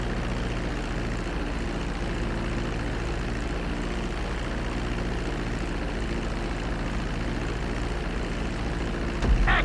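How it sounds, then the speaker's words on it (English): An airplane comes in over the runway to land in GTA 5, a steady low engine drone that holds evenly throughout with a brief thump at the very end. "Start reducing the plane's altitude gradually so you're just above the runway as you approach."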